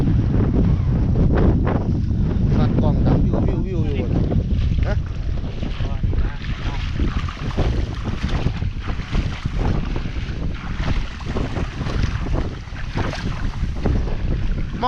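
Strong wind buffets the microphone on a boat out on open water while crab traps are set, a loud, continuous low roar with gusty surges throughout, alone with no speech.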